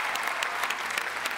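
Loud applause from a theatre audience welcoming actors on stage, a brief, dense burst of clapping with no voices over it.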